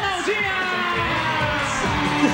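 A studio audience cheers, whoops and applauds on a Brazilian TV show as a girl group is welcomed on stage, a dense, loud, continuous crowd roar with shouts rising above it.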